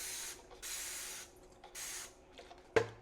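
Cleaner spray on dirty dishes at a kitchen sink gives several short hissing bursts in an uneven rhythm, close and fairly quiet, followed by a sharp clatter near the end.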